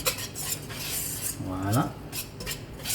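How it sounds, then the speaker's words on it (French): A utensil scrapes and stirs butter into flour in a bowl, producing soft, close rubbing and clinking sounds with a brief louder scrape midway. "Je vais mélanger pour que le beurre prenne le dessus"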